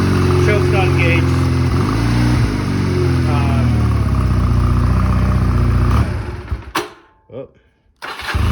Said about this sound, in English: Let's go ahead and start it up. You can hear choke's not engaged.